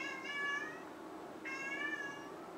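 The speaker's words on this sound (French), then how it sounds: "C'est le chat." A house cat meows twice indoors, two clear drawn-out cries about a second apart, close and moderately quiet over a faint room hum.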